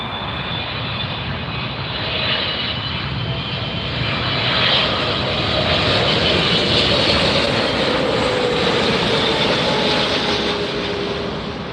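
A large airliner at LAX airport roars past with a loud, steady jet engine rumble that swells and lingers for several seconds, close by and uninterrupted by voices.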